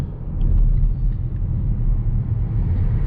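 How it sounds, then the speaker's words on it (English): Inside a 2019 Škoda Kodiaq RS SUV, the synthetic engine note piped through the car speakers is a low, steady rumble that holds even for the whole moment, with no talking. "the engine, I mean the sound. Now the sound is projected through the speakers into the car."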